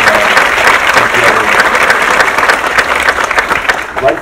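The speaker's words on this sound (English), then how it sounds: "So can we give the men and women who serve our country a round of applause?" An audience at an MLK talk at Redstone Arsenal gives a loud, sustained round of applause, many hands clapping close and full before tapering slightly at the end.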